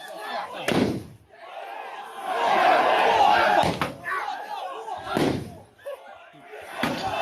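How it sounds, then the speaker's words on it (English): Loud fireworks bangs crack out at intervals during a street riot in Cardiff, cutting through a noisy crowd with shouting voices and nearby talk. "Fireworks. Fireworks."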